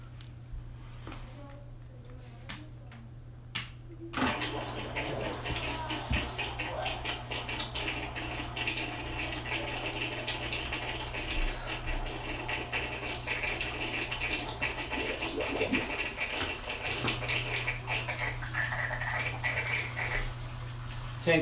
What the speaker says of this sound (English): Tank's filling back up.